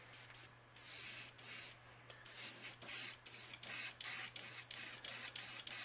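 Fluorescent yellow paint sprayed onto a crankbait fishing lure's belly and lower half, in a series of short airbrush-like bursts with brief gaps, steady hiss over a low constant hum.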